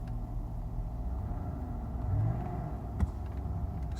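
A 2003 Mercedes S-Class with a transmission problem pulls away in first gear, its engine a steady low rumble throughout with a slight swell mid-way and a brief knock near the end, with no talking.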